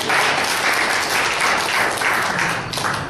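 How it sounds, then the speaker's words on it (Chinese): Dense, loud applause from a church congregation during a Hokkien-language sermon, continuous clapping from many hands that holds steady for the whole stretch. "你莫拍手了"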